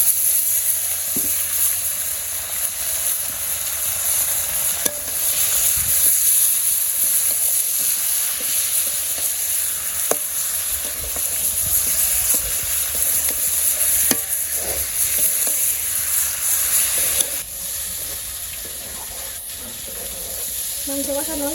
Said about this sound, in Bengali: মাংস কষানো হয়েছে,